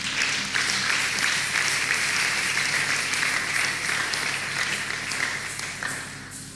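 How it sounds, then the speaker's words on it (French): A church congregation applauding and cheering for the Lord, a dense, loud, even wash of clapping from a large crowd that holds steady and fades slightly at the end. "Tu peux acclamer très fort pour le Seigneur"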